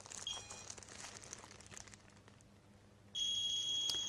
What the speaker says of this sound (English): We hear the sound beep, and we see that even after a few seconds we have quite a huge number.